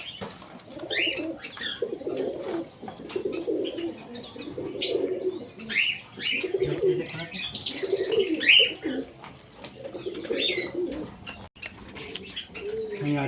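Pet pigeons coo repeatedly in low, rolling phrases, close by, with scattered chirps from smaller birds and a brief flutter of wings throughout.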